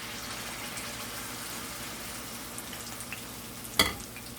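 Red herring fritters fry in a pan with a steady, close sizzle and crackle of hot oil, topped by one sharp clatter near the end.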